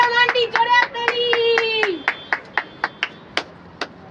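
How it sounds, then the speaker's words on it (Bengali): Children clap for a prize winner at a Ganesh Puja celebration, sharp hand claps in an uneven rhythm under a steady tone, the claps growing sparse and isolated toward the end. "সবাই একটু হাততালি কর, জোরে হাততালি দেবে।"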